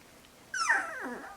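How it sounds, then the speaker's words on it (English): A five-week-old Aussiedoodle puppy lets out a single close, high yelping whine that rises sharply and then slides down, alone over a quiet background. "they can really put on a barking fest when they want to"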